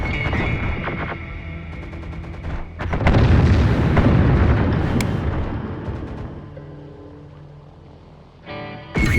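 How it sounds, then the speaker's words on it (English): Wirehead weapon fire in a firefight with Rangers in the video game Terminator: Dark Fate - Defiance, heard as loud, dense booming gunfire bursts that swell through the middle and fade before a final sharp burst. "Gunfire! It's wirehead weapon fire."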